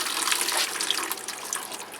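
Water poured onto the soil of a plant pot, a steady soft splashing trickle that runs continuously and fairly close for a couple of seconds.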